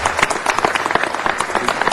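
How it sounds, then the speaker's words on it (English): Audience clapping for an educator being honored on stage, a short burst of sharp close hand claps with a rapid irregular rhythm, loud and dense with no voices over it. "Give him a round of applause."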